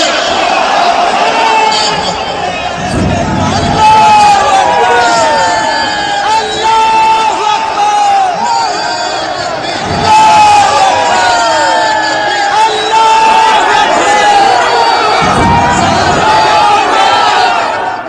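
A huge outdoor crowd of thousands gathers for the laying of a Babri mosque foundation, a loud continuous roar of massed voices with chanting and shouts rising in waves, dense and unbroken.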